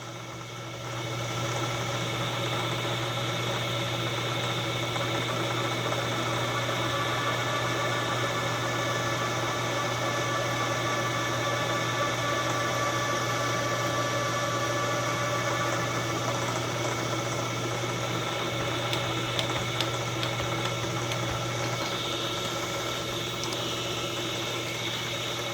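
Electric motor of a shop machine used for making pen mandrels, running at a steady even hum with constant vibration for the whole stretch, close and unchanging.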